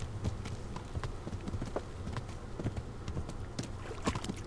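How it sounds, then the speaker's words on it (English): A horse's hooves clip-clop at a steady trotting rhythm in the medieval video game Kingdom Come: Deliverance. The hoofbeats stay fairly close and moderately loud, over a faint background wash, with no talking. "My horse is amazing."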